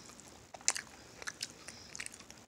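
Cheez-It cheese pizza crackers crunch in a few quick, crisp bites followed by light chewing, close and quiet, with no talking.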